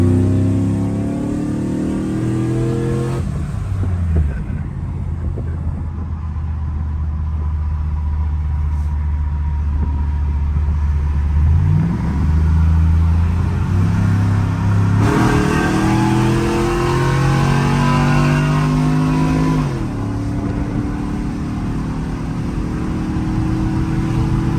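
Car engine with a big performance cam, repeatedly revving hard up to about 6,500 RPM, with rising pitch sweeps and shifts between pulls, loud and close throughout with no talk.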